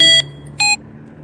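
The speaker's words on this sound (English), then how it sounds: "Sorry guys, that was an alarm." An electronic alarm sounds two short, loud, high-pitched beeps about half a second apart, close and clear, followed by quiet outdoor background.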